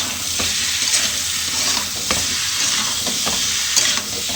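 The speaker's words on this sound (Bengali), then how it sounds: "ব্যাস, এবার এটা দিয়ে আমি কষাবো" Ground spices (turmeric, cumin, coriander, chilli powder) with ginger-garlic paste and salt fry in a pan with a steady loud sizzle, broken by periodic scraping stirs of a spatula; no voices.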